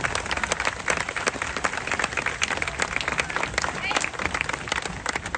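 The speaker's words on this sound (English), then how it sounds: "Give them a nice round of applause." Sustained audience applause fills a high school football field dedication ceremony at Hornet Field, a dense steady wash of many hands clapping, fairly loud and continuous with occasional crowd voices underneath.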